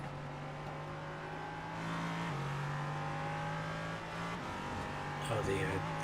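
LP3 race car engines in a miniMite sportscar race at Indianapolis, a steady sustained engine drone with a shift in pitch midway, heard beneath commentators talking.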